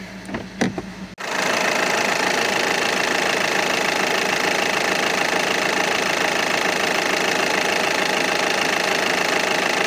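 Skoda Superb II diesel engine idling while warming up after a start, heard as a loud, steady, close mechanical drone with constant clatter that fills the clip after a brief burst of rattling at the start.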